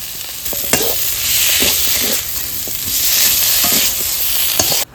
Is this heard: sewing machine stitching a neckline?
no